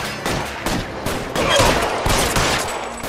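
Rapid bursts of gunfire from a shootout in the L.A. Noire video game, several loud volleys and single shots overlapping in quick succession, with no voices in the gaps.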